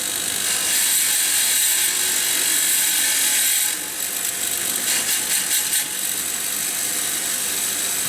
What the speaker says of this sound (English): Got the old wire brush thing there. Turn her on.